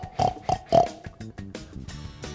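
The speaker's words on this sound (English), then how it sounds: "You're right, it's a pig." A pig oinks in a quick run of three loud, close grunts followed by several softer nasal snorts, heard alone without talk.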